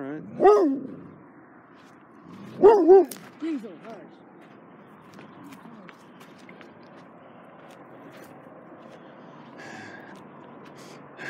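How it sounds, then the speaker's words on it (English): A dog gives two short, close barks a couple of seconds apart, followed by a softer yip, on a hillside near a fort above Santa Fe, New Mexico, then only quiet outdoor background with faint voices. "There's the dog."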